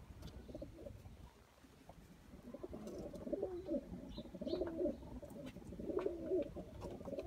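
Sialkoti pigeons coo steadily in soft, rolling, repeated phrases close by, with a low continuous background hum beneath the calls.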